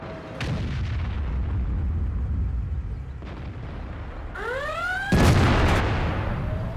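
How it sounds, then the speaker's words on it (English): Booming tank cannon shots in World of Tanks, with an IS-7 heavy tank involved: a heavy blast early, a softer one mid-way, then a whistling sweep before a loud, close final boom with a lingering rumble. "I don't even know where that shot went."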